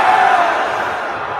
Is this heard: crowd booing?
yes